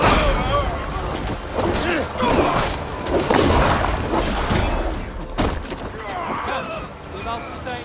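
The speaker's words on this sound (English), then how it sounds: "Okay, the fireworks." Fireworks exploding in Assassin's Creed Valhalla on PC, repeated booms and crackling bursts layered over game sound and voices, loud and busy throughout.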